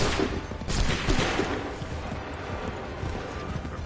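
Musket volley gunfire in Assassin's Creed 3 Remastered, a dense burst of overlapping shots at the start that rolls into a sustained crackling battle din, with faint shouted commands underneath.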